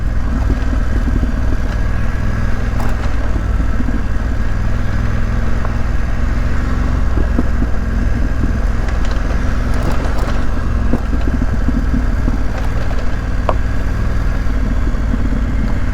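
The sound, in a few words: BMW F900GS motorcycle riding on a dirt trail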